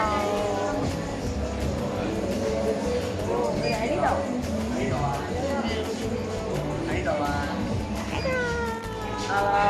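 A cat meows a few times in a busy Bangkok bar serving skewers, its cries rising clearly above the noisy chatter and music.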